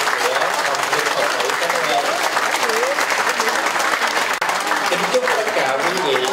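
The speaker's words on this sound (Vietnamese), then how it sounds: "xin tất cả đại chúng hiện diện ở đây cho một tràng pháo tay thật là lớn" Sustained applause from an audience at a vegetarian fundraising banquet for a temple in Canada, dense and steady throughout, with voices mingling in the crowd.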